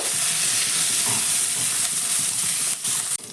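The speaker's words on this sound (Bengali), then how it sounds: "সামান্য একটু ধনে পাতা কুচি সঙ্গে সামান্য একটু কারি পাতা কুচি একদম অল্প পরিমাণ দিয়ে ভালো করে একটু নাড়াচাড়া করে ভেজে নেব" Chopped coriander and curry leaves stir-fry in hot oil in a pan, giving a loud, continuous sizzle and hiss with a few scraping stirs near the end.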